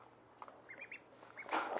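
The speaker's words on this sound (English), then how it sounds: "Filming ducks here." Pet ducks feeding close by give a few short, soft quacks, faint and low in level, with no talk over them.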